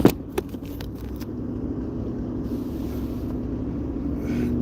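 Inside a moving car on the way to a mowing yard, a steady low cabin rumble of road and engine noise, with a few sharp clicks and knocks at the start and no talking.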